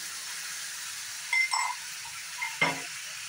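Chicken with crushed garlic and ginger simmers in a pan with a little added water and no oil, giving a steady soft sizzle broken by two brief scraping stirs.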